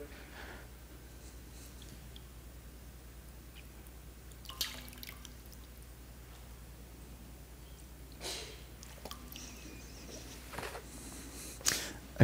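Water drips from a hand lifted out of a baptismal font, falling in a few faint, scattered drops and splashes over a quiet church room.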